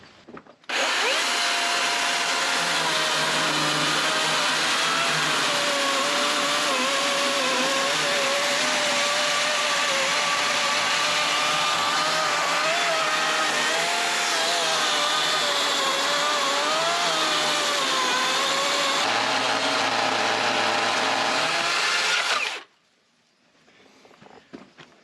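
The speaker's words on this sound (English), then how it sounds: "I'm impressed with that saw. It cuts pretty good." A chainsaw cuts through a timber frame beam of spruce-like wood, a loud, steady engine whine that holds for about 22 seconds with slight shifts in pitch, then cuts off abruptly.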